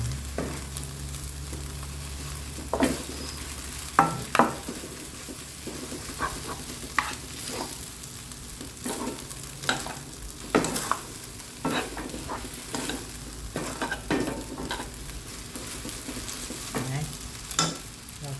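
Rice noodles stir-fried in a pan over medium heat: soft steady sizzling with repeated scraping and clacking of a utensil against the pan at an irregular rhythm, close by.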